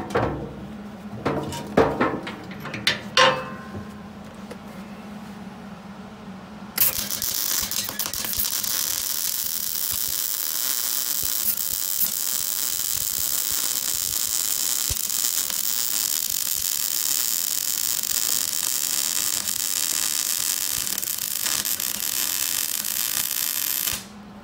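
A MIG welder lays hot beads on a John Deere 506 brush hog, a loud steady crackling buzz that runs unbroken for most of the stretch after a few sharp clanks and knocks at the start, close by, with no talk.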